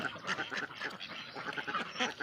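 Ducks kept on a small Thai farm raising several breeds, quacking repeatedly in a loose, continuous chorus at close to moderate range, with no voices over them.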